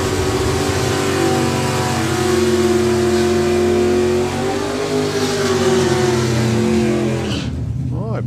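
Drag racing car at a doorslammers meet, its engine loudly accelerating down the strip at full throttle for several seconds before cutting off abruptly near the end.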